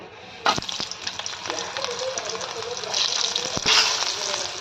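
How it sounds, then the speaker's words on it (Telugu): Spices for a tempering, such as garlic, cumin, mustard seeds and curry leaves, sizzle and crackle in hot oil with steady frying hiss and a few sharp pops, fairly close and moderately loud, with no talking. "మనం తాలింపు వేసేసుకుందాం"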